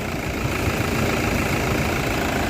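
Toyota Fortuner 4x4 engine idling smoothly, a dense, steady low drone with an even texture and no misses, heard close and loud throughout with no talk.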